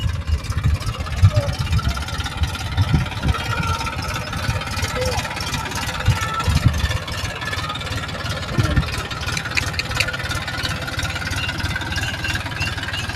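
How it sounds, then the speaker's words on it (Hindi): A tractor engine runs steadily while fertilizer is spread on a village farm, a loud, continuous low rumble with knocking texture throughout, with occasional voices over it. "भाई ट्रैक्टर चला रहा है"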